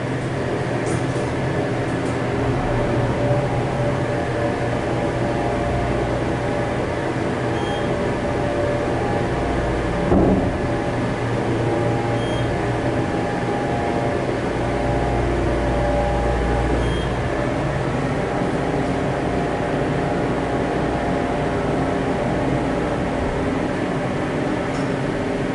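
A modernized Dover Impulse hydraulic elevator rides between floors in a condominium building, with a steady loud fan roar and hum filling the cab the whole time and the motor buried under it.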